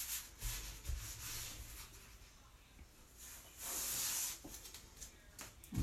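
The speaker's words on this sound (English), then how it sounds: "So we're going to peel off our backer for the Here Comes the Sun. Fuzz it on our fuzz cloth." A sticky-backed transfer sheet is rubbed and patted against a fuzz cloth, producing soft, repeated close-up rubbing hisses and brushing strokes with brief quiet gaps between them.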